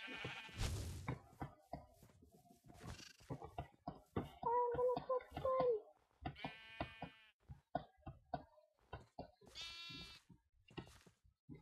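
Cartoonish sheep bleat repeatedly in the video game Sheep Quest, several wavering cries mixed with busy clicks and knocks of gameplay, all at moderate volume.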